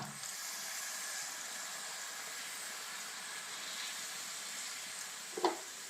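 Vinegar poured into a hot pan while making a lemon pickle gives a steady, faint hiss and sizzle that holds evenly throughout, with a brief clatter near the end.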